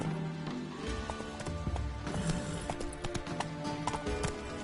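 A horse named Roach running, hooves clip-clopping in a quick, steady rhythm at close range, with faint background noise and no speech.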